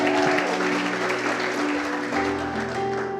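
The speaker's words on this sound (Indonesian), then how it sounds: "Tepuk tangan lah bagi Tuhan." Congregation applause fills a church service, a steady, full wash of clapping with a sustained musical tone, likely a keyboard or organ, holding underneath.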